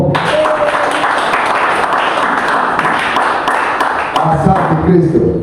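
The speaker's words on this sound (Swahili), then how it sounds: "Tupigie Yesu makofi." A church congregation applauding during a Swahili-language service: steady, dense clapping that holds loud and even throughout, with voices mixed into the crowd noise.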